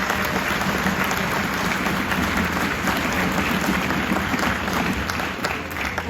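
An audience claps at a fourth grade strings concert in a school setting, a sustained, dense round of applause from many hands at steady volume throughout.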